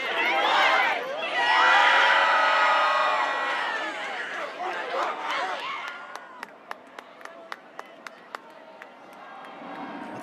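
A high school football student cheering section yells and cheers in a loud, swelling roar, then chants in a rhythmic count with sharp, evenly spaced claps.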